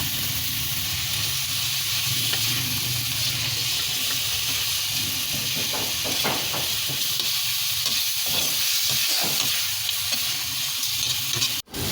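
Onion and garlic sautéing in a pan as black pepper is added, a loud continuous sizzle and hiss with stirring scrapes throughout, cutting off abruptly at the end.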